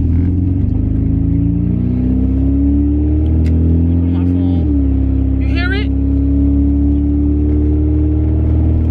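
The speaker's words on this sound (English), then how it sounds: "having a loud car, when I tell you, unless I have headphones, I cannot hear" Loud, droning engine hum from an old car while driving, steady low rumble with shifting pitch as it revs, filling the cabin continuously with faint whistly squeaks partway through.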